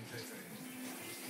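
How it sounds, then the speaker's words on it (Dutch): A shower running in a student-house bathroom, a steady broadband hiss of spraying water that fills the whole clip, heard faintly from nearby. "Ritje, ben je lekker aan het douchen?"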